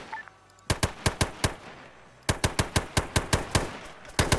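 Rifle fire in the Arma 3 military game rings out in two quick rhythmic bursts of sharp, evenly spaced shots, with a brief pause between them and a few more shots at the end.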